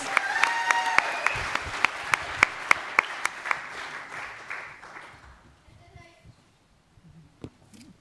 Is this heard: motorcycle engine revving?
no